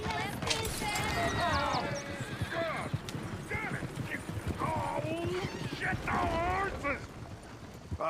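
Horse clip-clop and occasional snorts from Red Dead Redemption 2 in a busy game scene, hooves and tack rattling under near-constant overlapping talk and background bustle.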